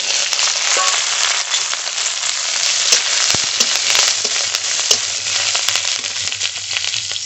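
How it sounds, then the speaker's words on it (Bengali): Cumin seeds, dried chilli, garlic, ginger and onion frying in hot oil in a wok give a loud, continuous crackling sizzle up close, with light stirring and popping throughout. "কড়াইতে তেল গোটা জিরে শুকনো লঙ্কা রসুন আদা পেঁয়াজ কাঁচা লঙ্কা একসঙ্গে ভেজে নেব"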